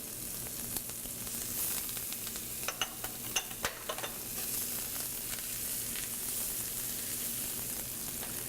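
Fish fillet searing in a hot pan with garlic, shallot and thyme, a steady broadband sizzle throughout with a few sharper pops and crackles near the middle, no voices.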